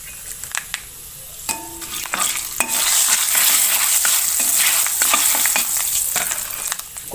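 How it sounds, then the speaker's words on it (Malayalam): Fenugreek seeds fry in hot oil for a tamarind curry, starting with a few scattered pops and spoon scrapes, then swelling into a loud, steady sizzle with repeated stirring clinks. "എണ്ണ മൂത്തുണ്ടായിരിക്കും. ഇതാ ഉലുവ ഇടണം."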